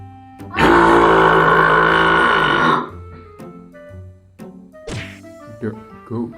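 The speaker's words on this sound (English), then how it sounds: "The not so hidden burp." A long, loud burp rasps out for about two seconds, followed by a few shorter, softer burps and throaty gulps in a row.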